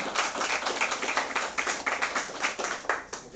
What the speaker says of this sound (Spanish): Ahora sí que pido un aplauso para...